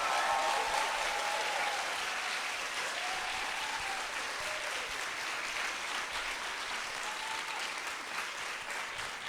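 An audience at a people's summit against APEC breaks into steady applause, a broad, even wash of many hands clapping that holds at moderate level and tapers slightly toward the end.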